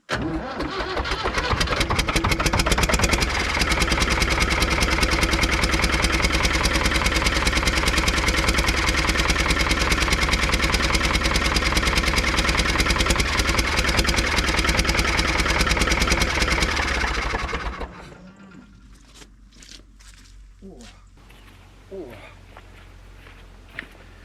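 A Case 1394 tractor's diesel engine, suspected of an injection pump fault, cranks and fires, then runs loud and steady for about sixteen seconds before cutting out, leaving quieter scattered clunks and handling noises.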